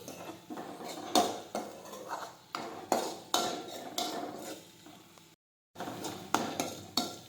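A spoon scrapes and clanks against a pan over and over while okra sabzi is sautéed with salt, in loud, regular strokes that stop briefly near the end and then resume.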